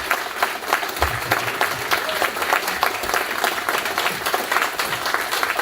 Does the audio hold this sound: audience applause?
yes